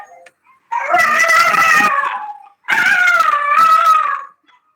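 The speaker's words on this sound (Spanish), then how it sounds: "Disculpen que mis perritos están acá llorando" Pet dogs whine and howl indoors in two long, loud, wavering cries, each lasting over a second and separated by a short pause, with nobody talking over them.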